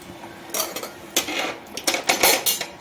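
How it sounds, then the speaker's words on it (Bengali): Ginger tea is strained into a cup with a metal strainer, giving a series of sharp clinks and clatters of metal against the cup. "চাটা ছেঁকে নেব।"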